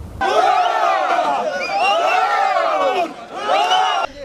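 Fans at Makhachkala airport greet champion wrestlers with a loud, close crowd roar of cheering voices and whoops that swells and stays strong throughout, then cuts off abruptly.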